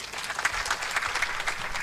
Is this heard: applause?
yes